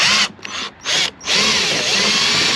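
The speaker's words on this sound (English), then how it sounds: "Now typically I don't use the drill, but I figured why not." A power drill fitted with a long-reach T30 bit backs a screw out of a GMC Acadia's power window switch panel, giving loud, steady whirring bursts broken by brief pauses, close up with no talking.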